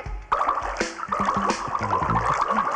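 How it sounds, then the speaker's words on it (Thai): Water splashing and trickling steadily in a comedy sketch set on an airplane, with a man urinating and bright dribbling, splattering liquid running throughout. "โอ้ยนี่กูเยี่ยวนะเนี่ย"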